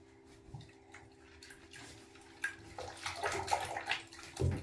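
Water laps and sloshs softly in a bathtub as someone moves in the bath, with faint drips and splashes building to a closer, louder swirl near the end.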